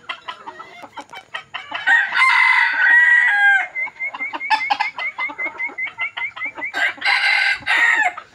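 A rooster crows loudly and close by, several long crows with clucking and other fowl calls between them, and no one speaks.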